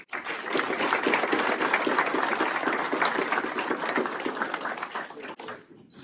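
An audience applauds at a Kenosha County Sheriff's Department promotion and awards ceremony after a deputy is honored for saving an infant's life: dense, steady clapping for about five seconds that thins and fades at the end.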